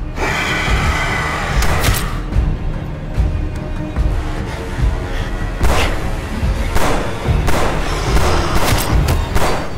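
Irregular bursts of gunfire crack out amid heavy thuds and booms, several sharp shots scattered across a loud, busy background.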